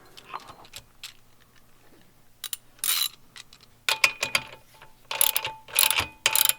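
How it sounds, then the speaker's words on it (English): Socket wrench ratchet tightening a 19 mm nut on a Honda Grom MSX125 swingarm stretch kit, heard as bursts of rapid clicking that grow longer and louder toward the end, separated by brief quiet pauses. "this nut will be a 19 mil, so you already had it on the socket wrench earlier"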